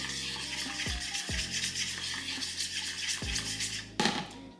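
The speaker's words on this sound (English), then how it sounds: "I'm gonna go ahead and whisk this around so it all becomes one" A honey glaze being whisked in a bowl for salmon, with a steady scraping, swishing rhythm that runs continuously over a background hiss, close and fairly loud, with a brief sharper clatter near the end.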